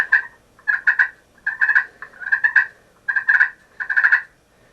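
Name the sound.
slate turkey call purr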